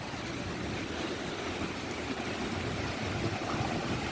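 Sea waves whipped up by Typhoon Uwan surge against a seaside breakwater in front of a house, a steady, loud, broadband roar of surf and wind with no break.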